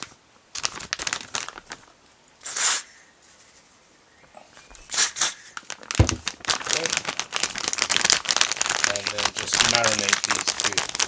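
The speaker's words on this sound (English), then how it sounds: "Plastic bag." Plastic bag crinkling as Losi 5ive T RC car parts are shaken inside it, sparse rustles at first that grow into dense, continuous crackling and rattling up close.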